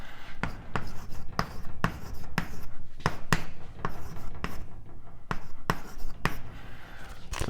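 Chalk taps and scrapes in quick, fairly regular strokes as equations go up on a board during an advanced cosmology lecture, with no voice heard.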